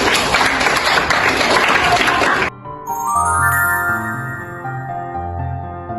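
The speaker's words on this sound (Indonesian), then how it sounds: "tepuk tangan juga ya" A classroom of students in a biology lab class claps together in dense, loud applause for about two seconds, then it stops abruptly and a bright chiming melody with steady low tones takes over.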